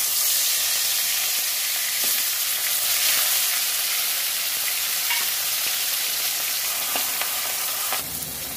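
Two pieces of fish rubbed with salt and turmeric fry in hot mustard oil, giving a steady, dense sizzle that fills the whole stretch, close and constant, with a few faint clinks and no voices.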